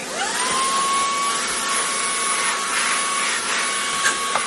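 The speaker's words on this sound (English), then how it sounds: "Hit it with the vacuum here real quick." A vacuum cleaner sucking up grinding dust beside a 1x30 belt knife sharpener, a steady close whining roar with a high tonal whistle that runs unbroken throughout, with a couple of faint knocks near the end.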